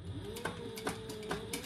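A sewing machine top stitching a raw-edge triskele wallet, running steadily with a faint rhythmic hum and soft periodic clicks roughly every half second, fairly quiet and close.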